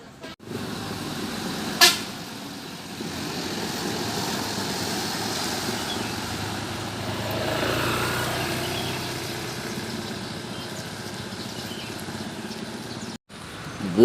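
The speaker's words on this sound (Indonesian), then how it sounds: "bus double decker, bus Simpati Star memasuki terminal BPRS Pekanbaru" Buses, including a double-decker and a Simpati Star coach, roll into the BPRS Pekanbaru bus terminal with a continuous rumble of engines and traffic, a sharp horn toot early on and a swelling pass-by midway.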